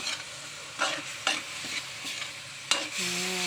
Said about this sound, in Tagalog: Ayan, haluin na natin.